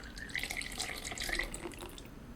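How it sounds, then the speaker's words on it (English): Half a cup of melted butter and half a cup of milk pour into an apple pie mixture in a soft, close, continuous trickle that stays quiet throughout. "Now I'm pouring in ½ cup of melted butter and ½ cup of milk."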